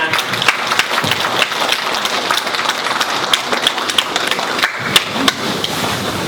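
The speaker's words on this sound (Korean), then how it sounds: "수어 통역사 4분께 감사의 박수를 부탁드립니다" Loud, sustained applause from a forum audience thanking the sign language interpreters, many hands clapping densely with a few sharper claps standing out, and no voices.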